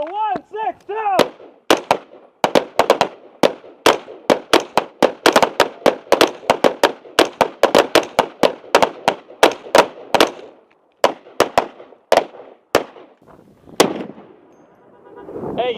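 Gunshots during tactical weapons training ring out as loud, sharp cracks in a rapid, irregular string, sometimes paired or clustered, with brief gaps and a pause near the end.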